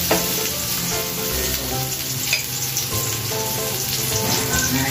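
Chicken pieces sizzle steadily in a hot pan for adobo seasoned with soy sauce, a dense continuous frying crackle with occasional stirring scrapes, close and unbroken, with no voices.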